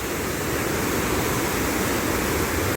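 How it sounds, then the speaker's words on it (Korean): Mountain stream water rushes steadily along the Gayasan trail, a dense, continuous close roar of flowing water with no pauses, cutting off abruptly at the very end. "물소리가 너무 시원하게 들리고"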